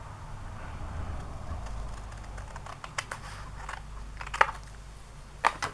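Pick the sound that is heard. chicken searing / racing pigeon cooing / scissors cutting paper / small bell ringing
scissors cutting paper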